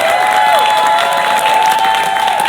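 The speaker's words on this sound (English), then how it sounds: "So I want to just give a round of applause." Audience at a My Little Pony fan convention applauding for a charity contributor, a loud continuous clapping wash with some crowd noise and a steady tone running through it.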